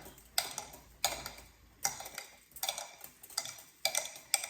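Spoon stirring powdered confectioner's sugar into a poke cake mixture in a bowl, soft scraping strokes punctuated by about seven sharp taps against the bowl, close and faint, with no talk.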